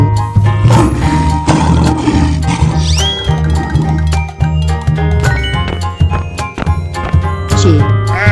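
A cartoon lion roars in a 3D animal slide video game, a loud growling roar mixed over bouncy game music with chimes and jingles, a voice briefly reacting nearby.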